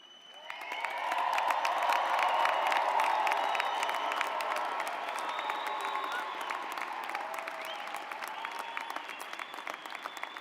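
Sustained applause and cheering from a large crowd at a university graduate and doctoral commencement ceremony, swelling quickly and staying loud for about ten seconds before easing slightly, with scattered whoops mixed into the clapping.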